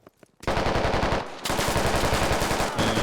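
Sustained automatic gunfire in the military shooter Squad, loud and close, with rapid bursts running almost continuously after a short quiet start and only a brief dip midway.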